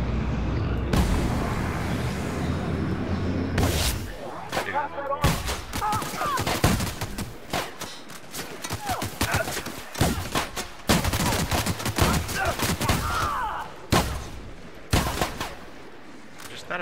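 Shotgun fire in The Outer Worlds: loud, repeated blasts at an irregular pace through a chaotic firefight, with game noise between the shots.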